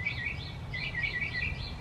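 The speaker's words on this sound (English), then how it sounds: "Oh, the birds are saying hi too." Birds chirp outdoors in short repeated high-pitched phrases, moderately close, over a steady low background hum of open air.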